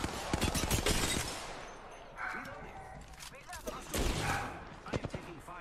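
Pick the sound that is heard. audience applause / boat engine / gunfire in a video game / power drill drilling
gunfire in a video game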